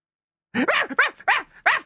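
A small dog yaps five times in a quick, sharp, high-pitched series, loud and close, after a brief silence.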